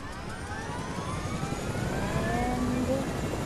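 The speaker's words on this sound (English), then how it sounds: "I'm gonna get the helicopter, guys, so let's get the helicopter" A helicopter in the video game Fortnite lifts off with a steady, droning engine and rotor roar that swells slightly toward the end, while a voice talks faintly underneath.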